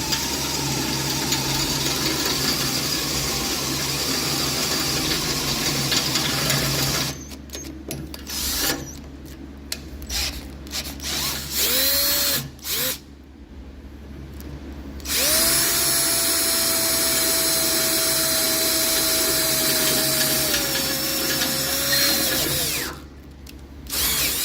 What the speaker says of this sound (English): But I'll show you how I drill steel. I always do low RPM and high load.